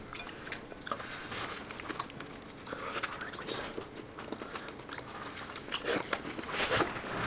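Someone chews a bite of food with onion and lime on it, close to the ear. Soft, crunchy bites and mouth sounds repeat irregularly at low volume.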